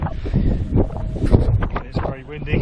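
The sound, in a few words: strong wind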